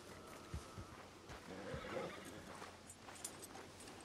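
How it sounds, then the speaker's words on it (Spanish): A horse in the Red Dead Redemption 2 video game on PS5 gives a faint, distant whinny midway, with soft hoof clip-clops. The whole scene is quiet and low in level. "Me gusta mucho este caballo, es muy grande"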